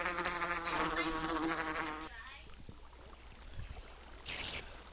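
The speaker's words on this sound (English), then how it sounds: "There's some little creatures, bees." Bees buzz in Minecraft with the Mo' Creatures mod, a loud steady drone at first that cuts off, followed by quieter scattered buzzing and a brief final burst.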